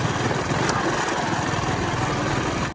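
A motorbike engine runs at a steady idle-like drone, close and continuous, with a buzzy texture and no pauses until it cuts off abruptly at the end.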